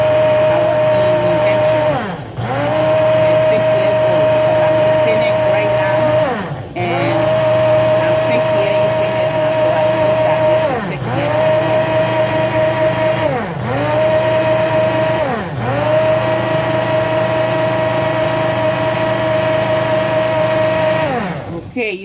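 A small blender whirs loudly and steadily, its motor briefly pausing and restarting several times, with a high mechanical whine throughout.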